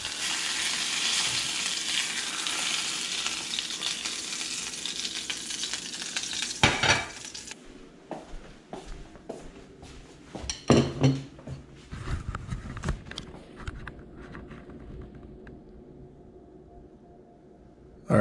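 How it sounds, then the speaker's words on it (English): Yellowfin croaker sizzles and fries in a pan, a steady crackling hiss that drops off partway through as the fish is flipped, followed by scattered pops, scrapes and utensil knocks that gradually fade. "Flipped it over to cook on the other side."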